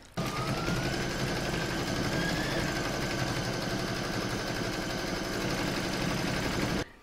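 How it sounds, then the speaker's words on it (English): An embroidery machine stitches a second securing round on fabric taped in the hoop, a steady mechanical whirring hum that runs continuously for about seven seconds, close and alone, then stops. "I'm now going to put that back in my machine and stitch round number two to secure them"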